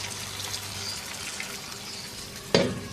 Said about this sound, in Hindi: हस्बे ज़रूरत पानी शामिल कर देंगे।